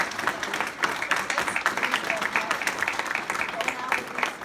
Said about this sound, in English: We all owe her a huge round of applause for all of that